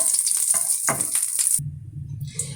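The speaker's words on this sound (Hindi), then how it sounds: "अब ये मैं आधा टीस्पून जो है जीरा डालूंगी इसमें। इसको हल्का सा फ्राई कर लेंगे।" Half a teaspoon of cumin seeds frying in hot oil in a pan, a crisp hissing sizzle with light stirring that cuts off abruptly partway through, leaving a low hum.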